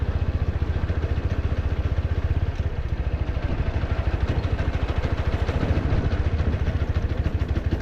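A motorcycle engine lugging in fourth gear at low speed gives a steady, rapid knocking pulse, loud and close, repeating evenly with rough mechanical clatter throughout.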